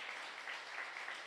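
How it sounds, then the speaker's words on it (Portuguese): A church congregation applauding, a brief, faint wash of many hands clapping that holds evenly for about a second. "Então aplauda ao Senhor"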